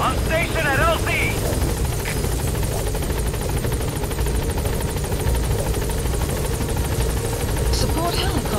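A support helicopter arrives at a landing zone in Metal Gear Solid V, its rotor thumping loud and continuous with a constant engine drone, while voices speak over the start.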